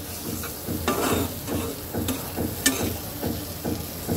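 Spice paste for a fish curry is stirred and fried in a pan, with a continuous soft sizzle under regular scraping and clinking spatula strokes, close and moderately loud.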